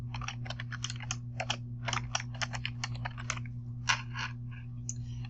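Quick bursts of keystrokes on a computer keyboard as an assignment name is typed, crisp clicks in uneven runs with short pauses, over a steady low hum.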